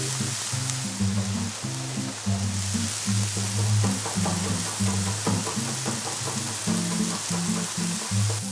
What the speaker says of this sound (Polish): Pieczarki i cebula spokojnie się smażą